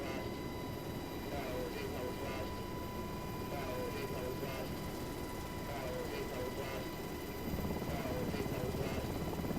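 A UH-60L helicopter in a flight simulator game, its rotor thrumming steadily with a droning engine whine during a rolling takeoff, loud and continuous, growing slightly louder near the end.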